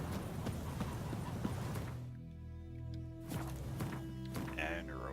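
Roach, the Witcher's horse, clip-clops along at a walk in a fantasy game, hoofbeats steady and moderately close beneath game music and background noise.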